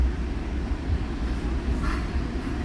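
An exo commuter train pulling into Lucien-L'Allier station gives a steady, loud low rumble with a constant rattle of the cars throughout, and nobody talks over it.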